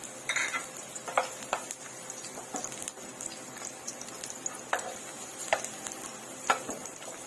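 Garlic frying in hot cooking oil in a fast-heating pan, a quiet steady sizzle broken by scattered clinks and scrapes of a utensil against the pan.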